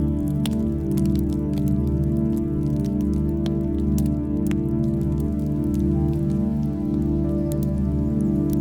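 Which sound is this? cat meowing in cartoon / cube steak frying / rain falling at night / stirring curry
rain falling at night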